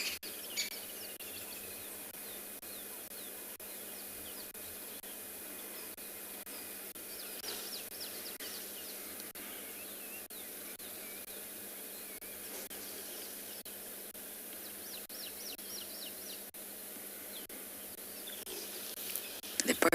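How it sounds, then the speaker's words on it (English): Birds call in the South African bush at dawn as the rain clears, faint and distant chirps scattered over a steady insect-like hiss, with a low murmur of talk partly underneath. "The birds are especially noisy because the weather is clearing up."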